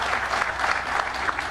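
Steady audience applause at a comedy mushaira poetry recital in Islamabad, a dense, even patter of many hands sustained throughout without a break.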